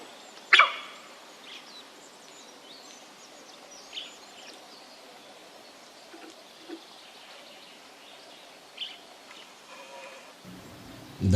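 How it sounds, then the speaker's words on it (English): A female sambar deer gives a sharp alarm bark in a tiger reserve forest, one loud call near the start, followed by quieter distant calls and scattered bird sounds over soft background ambience. "The somber deer must have sensed some danger from somewhere. That is why it barked."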